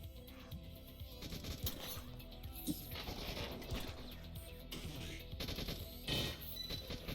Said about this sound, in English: We're seeing guys with like machine guns and shotguns.